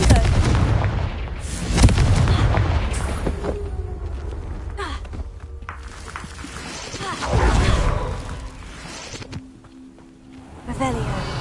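Blasts from the Confringo fire spell in the video game Hogwarts Legacy, a loud booming burst near the start and another around the middle over a continuous game soundscape, with breathy voice sounds in places.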